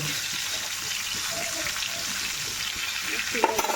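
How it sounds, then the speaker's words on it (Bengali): Brinjal slices fry in a pan with a constant, dense sizzle and hiss close by, carrying on steadily with a few small crackles near the end and no talking. "বেগুনটা ভেজে নেবো বেগুনটা বেগুনটাকে সিঙে ভাজবো"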